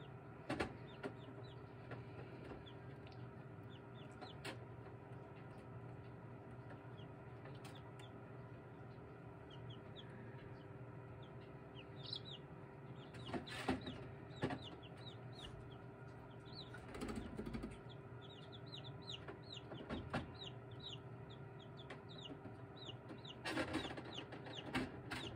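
Small chicks peep and cheep near eggs being candled as one chick tries to hatch, a busy, steady chorus of faint high chirps with occasional fluttering and louder bursts of peeping.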